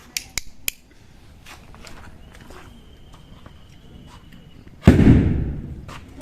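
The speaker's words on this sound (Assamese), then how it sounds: "প্ৰথমতে বোমাটো মাৰি ল'ম" A Diwali firecracker bomb goes off with a single sharp, loud blast that rumbles and fades over about a second, preceded by a few faint clicks and quiet rustling.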